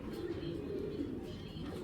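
Pigeons in a loft of breeding pairs coo in low, continuous throaty murmurs, close and steady throughout, with faint talk mixed in.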